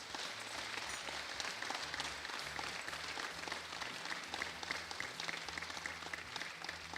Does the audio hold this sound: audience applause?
yes